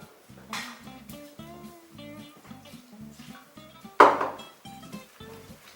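A wire whisk stirs round and round in a pot of Kölsch-style sauce for Hämmche with Kappes and Püree, giving a steady run of metallic clinks and scrapes with one louder knock near the end.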